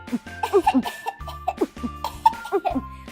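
A voice makes a short series of imitated coughing sounds mixed with giggles during doll play, with a faint tonal toy-like hum underneath.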